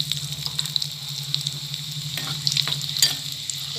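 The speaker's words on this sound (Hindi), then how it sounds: "इसे हम थोड़ा सा फ्राई करेंगे" Garlic and whole green and red chilies fry in hot oil with cumin, a steady close sizzle with faint stirring scrapes and a low background hum, no talking.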